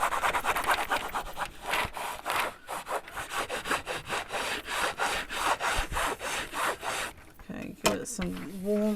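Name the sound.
rubbing a transfer onto an object for a Cricut craft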